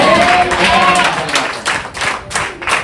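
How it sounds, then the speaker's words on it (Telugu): A congregation clapping along during a Sunday night prayer service, dense rhythmic hand claps filling the room under a voice leading prayer. "నమ్మేవారు మాత్రం చప్పట్లు కొడుతూ ప్రార్థన"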